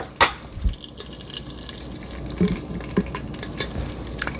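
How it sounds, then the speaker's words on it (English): Chicken broth poured into a pressure cooker over a trivet, a light running liquid trickle with a few soft clinks and splashes, close and moderately quiet. "we are going to be pouring in 1 cup of chicken broth"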